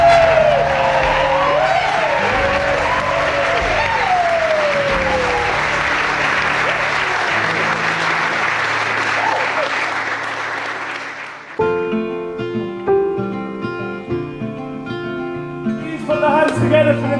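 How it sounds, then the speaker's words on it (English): Wedding guests clap for the newlyweds, a sustained burst of applause lasting about eleven seconds with a voice over the start, then giving way to music. "Let us have a round of applause for Nathan and Sarah, Mr. and Mrs. Quashie."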